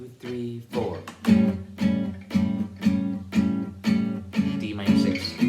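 Gypsy jazz acoustic guitar strumming the Dark Eyes minor chord changes in a steady, punchy rhythm, each chord struck on the beat with sharp, ringing attacks, played alone and close.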